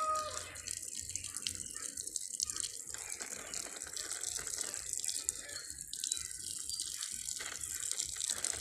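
Water splashing and gushing steadily while watering Madre de Agua plants outdoors, a continuous hissing pour with small fluctuations, fairly faint and close.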